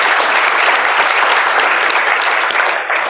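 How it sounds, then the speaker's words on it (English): Loud, sustained applause from a large crowd at a community diversity dinner, a thick, even roar of clapping that holds steady throughout. "I think another loud applause."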